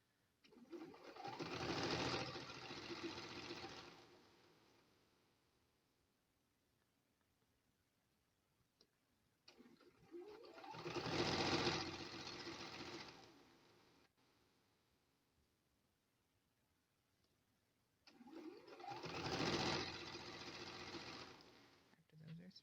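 Sewing machine chain piecing quilt fabric squares, running in three separate bursts of rapid mechanical stitching, each lasting a couple of seconds with quiet pauses and faint handling sounds between them.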